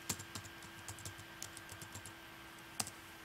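Quiet, close tapping on a computer keyboard, a run of irregular individual keystrokes with one sharper click near the end, and no talk.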